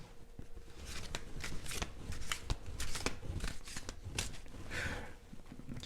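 Tarot cards shuffled and drawn, a run of close, crisp riffling and slapping strokes in quick irregular bursts, with soft breaths between and no clear speech.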